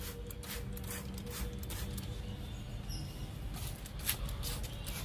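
A spray bottle fires a series of quick, hissing spritzes with faint trigger clicks, irregularly spaced and fairly quiet.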